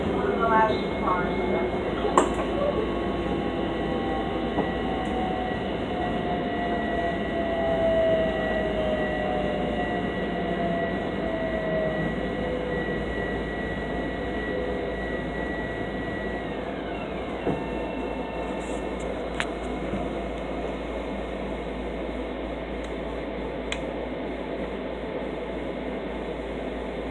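A Long Island Rail Road commuter train on the Main Line rumbles steadily from inside the car, with a constant low roar, faint squeals and occasional clicks of the rails, while station announcements play over it.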